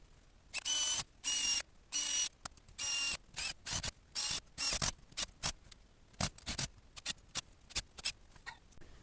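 A screwdriver drives screws into wall plugs to fix a greenhouse foundation, producing bursts of close ratcheting, clicking mechanical sound separated by short pauses.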